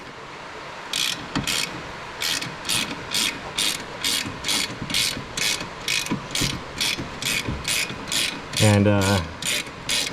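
A ratchet wrench backs off bolts on a brake caliper of a Z31 300ZX fitted with a Brembo big brake kit, loud close rapid clicking in repeated bursts, with a single short spoken word.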